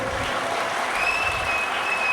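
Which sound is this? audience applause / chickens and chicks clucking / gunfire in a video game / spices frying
audience applause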